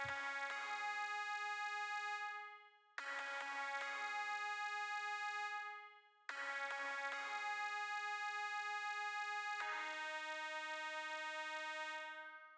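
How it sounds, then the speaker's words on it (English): A synth sawtooth lead layered over a pitch-modulated square wave plays bright, sustained electronic notes in three phrases, each ringing out into a reverb tail, with no voices. "it's a sawtooth lead with a square underneath it. And the square has pitch modulation."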